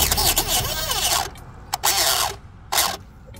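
A 1:8 scale toy-grade RC Hennessey Venom GT with a new brushless motor whirs in a long burst, then in several short, loud, whiny spurts with gritty, ratcheting mechanical noise between them.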